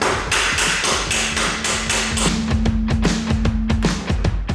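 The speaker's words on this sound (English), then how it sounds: "I'm gonna tap this. This is actually a copper backing bar for full pin welding." Repeated metal taps on a copper backing bar used for full-penetration pin welding, close and sharp, a run of quick strikes with a steady ringing tone under them, in a workshop during a turbo install on a 2021 Can-Am Defender MAX.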